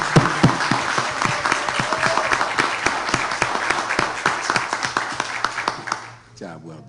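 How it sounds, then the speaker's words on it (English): Applause at a city council meeting, a steady run of close, sharp hand claps from a modest group for several seconds before fading, with voices talking underneath. "Y'all clap it up for Ms. Carter."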